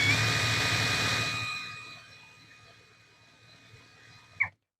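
A Kepu 20V brushless impact driver runs at speed 1, a high steady whine that winds down and fades over a couple of seconds, ending with a brief clack before silence.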